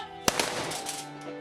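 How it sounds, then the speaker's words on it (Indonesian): A sharp military rifle salute volley crack rings out at a funeral, followed by a second fainter report, with reverberant outdoor ambience and a soft lingering tone behind. "tembakan salvo dilepas sebagai penghormatan terakhir"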